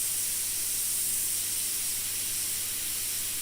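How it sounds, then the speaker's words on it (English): An airbrush sprays paint with a steady, continuous close hiss that holds an even level throughout, with no talking. "the airbrush spits and ruins everything"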